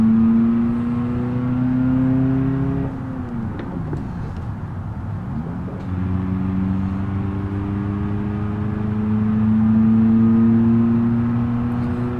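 A car engine idles and revs in long droning swells, with a break in the middle as it is cranked again, then rises back into a steady strained hum while the pedal is pumped.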